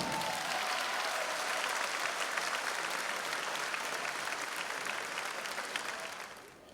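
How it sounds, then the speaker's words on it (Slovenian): A crowd at a high school graduation ball in Maribor applauds steadily and loudly, the clapping sustained for several seconds before fading out at the end. "Aplavz, odlično."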